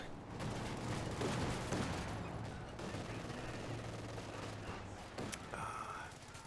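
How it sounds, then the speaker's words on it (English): Dense gunfire and explosive blasts from a Company of Heroes 2 battle, with a rifle grenade going off amid a continuous, loud wall of combat noise that stays busy throughout. "Oh, that's a rifle grenade."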